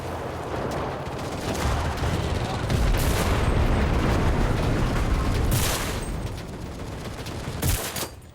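Gunfire in the WWII shooter Enlisted, a sustained burst-heavy barrage of shots and booms rolling continuously for several seconds, loud and dense with sharper cracks near the end.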